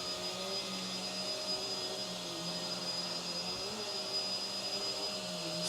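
A Hoover Windtunnel vacuum cleaner runs over thick carpet, a constant steady whine and airflow roar that stays even and close throughout with no pauses.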